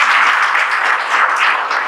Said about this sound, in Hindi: ताली बजाइए रीता नेताम